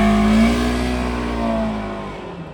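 A supercharged Ford Expedition accelerates close by, its engine roaring loudly and then easing off, with a steady harmonic whine that fades over a few seconds.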